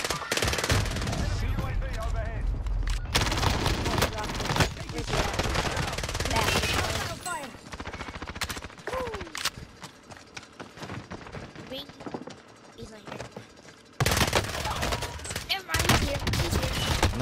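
Rapid automatic gunfire and bursts of shots in Halo Infinite multiplayer, dense and loud almost throughout with brief pauses, while players talk over the action.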